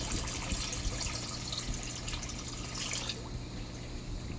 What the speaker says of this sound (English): I just wanted to give you a look at how extreme this actually looks when I pour it in the tank.